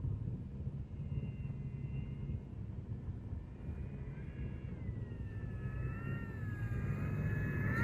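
A T-28 Trojan model airplane in flight produces a steady, droning engine hum with rising and falling whining tones near the end. The sound is continuous and moderately loud, with no voices.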